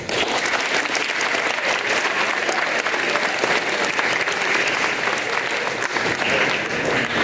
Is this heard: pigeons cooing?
no